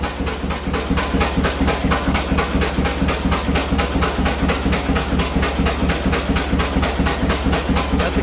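A John Deere AR two-cylinder tractor engine runs on both cylinders in a loud, steady, close chugging idle with an even pulsing beat throughout.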